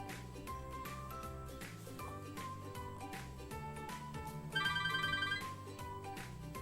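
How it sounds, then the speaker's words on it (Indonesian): A phone ringtone plays for an incoming call, a steady repeating electronic melody that rises briefly with a brighter ringing burst partway through. It sounds alone, with no talking. "ada telepon lagi?"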